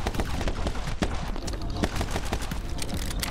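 Rapid gunfire from the action video game My Friend Pedro, a dense stream of sharp shots and bursts over a steady, loud game soundtrack with no pauses.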